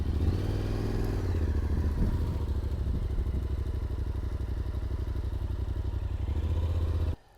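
A tall motorcycle idles and pulls away slowly with a steady, low engine chug that stays even throughout and cuts off abruptly at the end.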